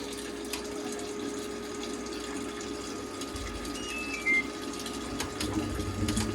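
Water drains steadily from a washing machine with a continuous rushing pump hum, close and even throughout, joined by a brief clunk and a few faint clicks.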